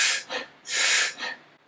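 A voice imitates apneustic breathing: two long, loud, breathy inhalations, each followed by a short, brief exhale, close and with no speech.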